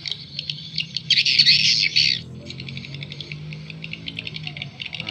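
Recorded swiftlet lure call of the inap ISK type, bright rapid chirping twitters, loud and dense in one burst near the start then continuing as a steady pulsed series over a low electrical hum.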